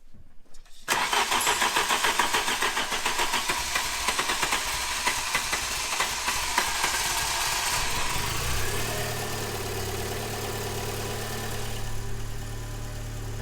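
Tuned car engine on a dyno cranks and catches after a brief silence, then runs loud and rough, settling into a steady close idle with a low throbbing rumble.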